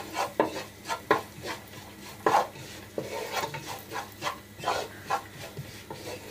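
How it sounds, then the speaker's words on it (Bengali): Nuts are fried in ghee and stirred with a utensil for shahi firni, giving a soft low sizzle under repeated scraping taps and knocks against the pan, fairly close and quiet. "ঠিক এভাবে একটু ভেজে নেবেন বাদামগুলোকে ঘিয়ের সাথে"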